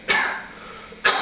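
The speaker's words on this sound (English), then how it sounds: "How long have you had that cough?" A sharp cough bursts out near and loud, then a second cough follows about a second later, alone with no talk, in a dramatized reading set among nitre-covered cellar walls.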